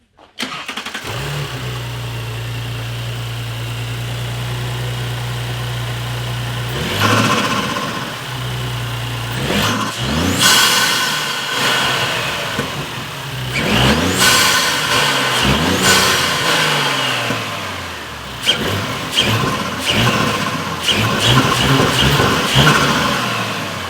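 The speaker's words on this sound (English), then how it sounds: "Mike's gonna give us a start up with a couple of revs here." A warm Audi S4 B9 turbo V6 fitted with a Unitronic intake cranks and fires up loudly, settles into a steady idle, then gets several sharp revs with rising and falling engine notes and intake whoosh, close by.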